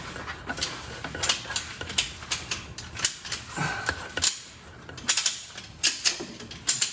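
A hand crank ratchets steadily on a lift table while a Subaru WRX transmission is lowered, giving sharp, close clicking bursts in an uneven rhythm with brief pauses.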